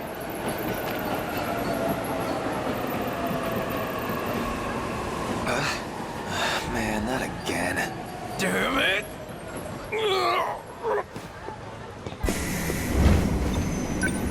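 A train pulls into a station in the video game 13 Sentinels: Aegis Rim, its steady rumble and tonal whine running throughout, while people speak over it in short, agitated lines.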